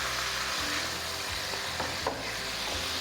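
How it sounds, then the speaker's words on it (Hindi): Beef sizzles and fries in a karahi pan, giving a dense, constant crackle close by, with occasional low scraping from stirring. Nobody speaks. "बीफ को मैं अच्छे से फ्राई कर लूँगी"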